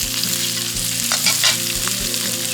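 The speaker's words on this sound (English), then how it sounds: "Time to saute the potato and the masala" Boiled potatoes with masala sautéing over a campfire at a beach, a steady close sizzle and fry with stirring scrapes throughout, no voices.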